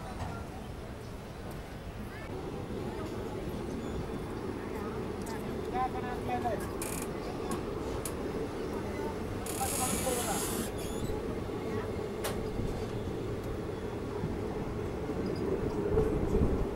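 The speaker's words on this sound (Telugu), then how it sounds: "మన ట్రైన్ అయితే డిపార్ట్ అయింది అనకాపల్లి నుంచి" The Ratnachal SF Express pulls out of Anakapalli with a low, continuous rolling rumble of wheels and carriages, quiet and steady, along with a few clanks and a brief hissing burst midway, while voices murmur faintly underneath.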